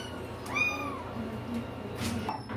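A kitten meows several times among a house full of kittens, soft rising mews close by with a light background hum.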